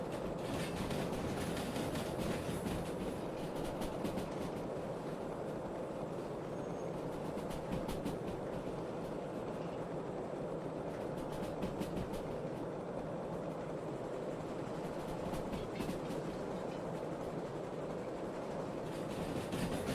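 A locomotive rolls along rails in the train simulation game Derail Valley, producing a steady loud rumble with faint rhythmic clicks from the track, constant and uninterrupted throughout with no voices.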